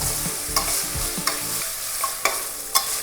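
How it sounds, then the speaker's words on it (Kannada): Green peas frying in a pan for peas pulao, a steady sizzle broken by several sharp spatula clacks and scrapes at irregular intervals. "1 ನಿಮಿಷ ಬಟಾಣಿನ ಫ್ರೈ ಮಾಡಿದ್ದಾಗಿದೆ"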